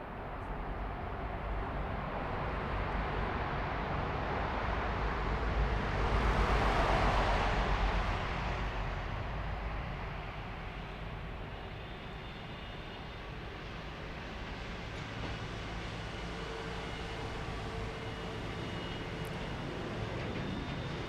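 An Aerologic cargo jet takes off from runway 25 Center at Frankfurt airport in the evening, a broad distant roar that swells to a peak as it passes, then fades slowly into a long rumbling tail.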